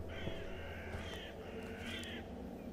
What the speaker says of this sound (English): I think it's a crow